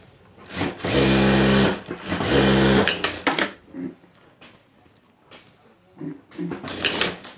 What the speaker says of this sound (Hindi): और अब यहाँ एक सिलाई कर देंगे ऊपर।